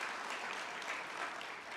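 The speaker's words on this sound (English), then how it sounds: "please do give them a round of applause" A town hall audience applauds in a soft, continuous wash of clapping, heard faintly and at a distance over a short stretch.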